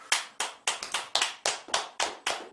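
Hands clapping during a Buddhist dharma talk at a monthly temple service, loud and close, with about ten sharp, reverberant claps in an uneven rhythm, each ringing briefly in the hall.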